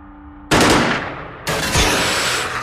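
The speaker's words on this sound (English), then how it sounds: "We'll go burst shots." Two loud, close bursts of rapid automatic fire from a weapon in the turn-based strategy game Xenonauts, each a dense crackling volley that keeps ringing until the next burst, with no talking.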